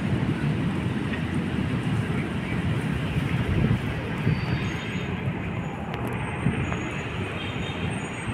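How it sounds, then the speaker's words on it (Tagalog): An LRT light rail train rushes past close by, a loud, continuous broadband roar and rumble that holds steady throughout. "Ayan, dumaan po yung LRT."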